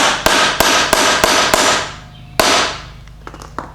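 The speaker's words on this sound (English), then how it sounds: "You can give it a couple whacks and see if it pops into place." A socket struck with a hammer to seat a U-joint clip: five sharp metallic whacks in a quick regular rhythm, a pause, then one more loud hit followed by lighter taps, close and loud.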